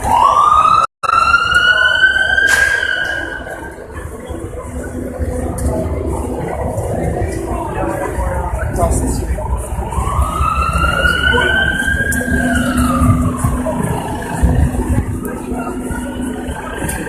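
Ambulance siren at a crash scene in Charlottesville, Virginia, wailing loudly up and down as it approaches and passes, with rising and falling sweeps over street noise and a voice speaking briefly.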